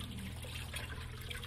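Water rushing steadily through a Speed Queen TR7003WN heavy-duty top-load washing machine during auto fill on a heavy soil cycle: a continuous, fairly close gush and trickle with no voices.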